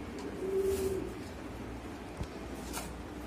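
Imported Beauty Homer pigeons give a soft, low coo that swells briefly near the start, followed by a couple of faint rustles against steady background noise in a loft.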